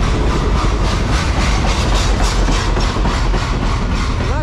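A CSX manifest freight train, led by an ET44AH locomotive with an ES40DC trailing, rolls past close and loud, a continuous roar of wheels with rhythmic clickety-clack from the cars over rail joints.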